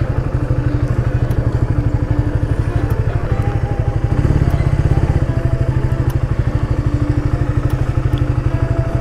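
Motorcycle engine idling close by outside a college, with a loud, steady, rapid thumping pulse that swells briefly midway.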